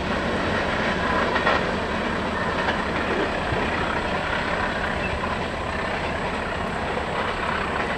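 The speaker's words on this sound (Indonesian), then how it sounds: "kereta api Lodaya langsung gaspol" The Lodaya passenger train rushes past at speed in a continuous, loud roar of wheels and rails that holds steady throughout with no pauses.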